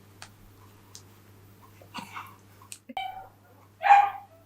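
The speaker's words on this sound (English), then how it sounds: "He doesn't even normally bark." Ralph, a dog, barks at the postman at the front door: a few short, scattered yaps build to one louder, fuller bark near the end, over a steady low hum in a quiet room.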